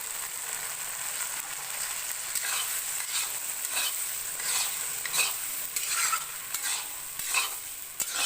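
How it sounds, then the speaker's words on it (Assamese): Tomato and green peas stir-fried in a pan for homemade ghugni, giving a steady soft sizzle with repeated scraping stir strokes at close range, no voices. "আৰু এতিয়া মই এইখিনি কোমল হ'লে ভাজি থাকিম।"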